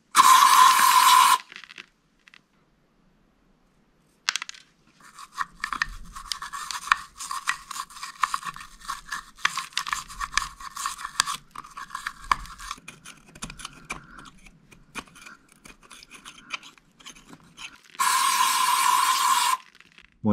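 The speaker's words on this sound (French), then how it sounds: "Et après tu passes avec une petite brosse." A small brush scrubs paint loosened by chemical stripper off engine parts during an engine rebuild, giving a dense run of close, quick rasping strokes between bursts of loud hiss.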